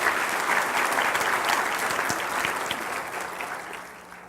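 Church congregation applauding steadily in a large hall, a dense sustained clapping that slowly thins out toward the end.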